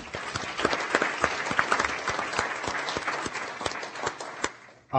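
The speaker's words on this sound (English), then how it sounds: "And just so we can give him a round of applause." Applause at a school board of education meeting, a modest group clapping in a steady patter that thins toward the end, heard indoors at moderate level.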